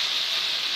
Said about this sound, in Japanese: 鍋肌にこう水と油がこう反応した音がするんですよね